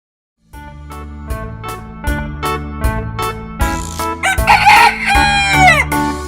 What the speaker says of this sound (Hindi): मुर्गी बोली क्लक क्लक क्लक